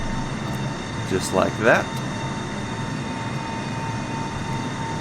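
A Boeing 747-8 lifts off in Microsoft Flight Simulator with a steady, loud engine drone and a constant hum, while someone talks briefly over it near the start.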